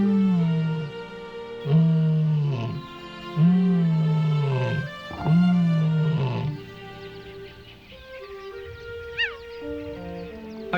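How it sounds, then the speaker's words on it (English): A lion roars in a series of deep, powerful bellowing calls, several loud strokes in rhythm, followed by quieter grunting and a few faint higher calls from other animals in the wild. "A lion's powerful roar calls the pride."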